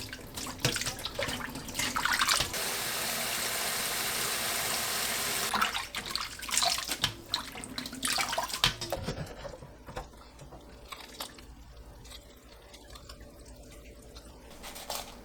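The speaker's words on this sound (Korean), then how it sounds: "찬물에 헹구고 물기 짜서 준비합니다" Blanched cabbage rinsed under a running kitchen faucet in cold water: a steady loud stream for several seconds, then splashing and handling of the wet leaves, fading to softer drips and squeezing.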